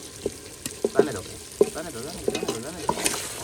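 Vegetables sizzling in hot oil and masala in a pan, a soft continuous frying hiss with several sharp spattering pops and clinks of stirring, close by and with no talking.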